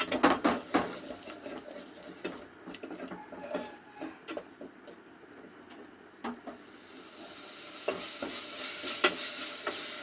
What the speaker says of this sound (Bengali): মশলাটা আমি যতক্ষণ না তেল ছাড়ে মশলা থেকে ততক্ষণ কষাবো